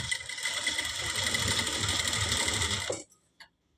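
Sewing machine stitching the corner of a saree, a steady close whirring run of stitches for about three seconds, then stopping abruptly, followed by a couple of faint clicks.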